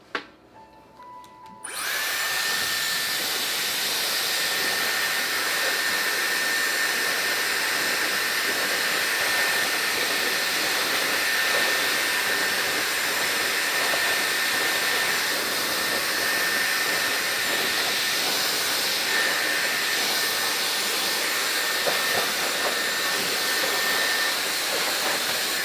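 A Dyson hair dryer switches on after a brief click and blows a loud, steady, high-pitched whooshing airflow. It runs unchanged for over twenty seconds with no talking.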